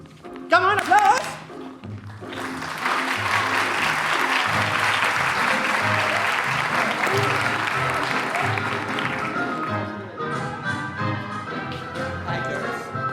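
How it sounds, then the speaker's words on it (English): An audience at a glee club cabaret show bursts into loud, sustained applause after a brief voice, the clapping swelling for several seconds before tapering off. "Come on, applause!"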